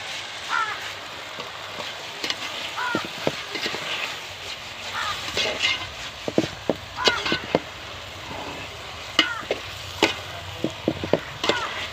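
Velai keerai greens for a tamarind kuzhambu cook down in a pot with a soft, steady sizzle, broken by scattered clinks and scrapes from stirring.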